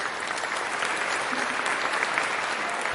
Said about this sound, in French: Merci de l'applaudir bien fort s'il vous plaît.